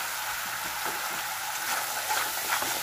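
Spice paste being fried in a pan for a Bengali katla fish curry (tel jhal): a steady, even sizzle and crackle, moderately close and uninterrupted, with no voices.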